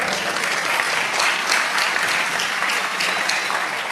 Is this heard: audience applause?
yes